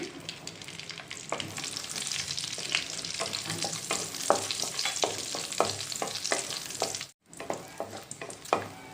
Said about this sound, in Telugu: జీడిపప్పు ఫ్రై అయ్యాక ఇందులో కిస్మిస్ కూడా వేసి ఫ్రై చేసుకుందామండి